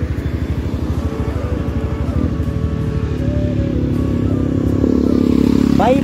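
Stop-and-go traffic of cars and motorcycles crowds Baijnath Road. A nearby motorcycle engine chugs with a rapid, rhythmic putter that swells louder, and other vehicles hum beneath it.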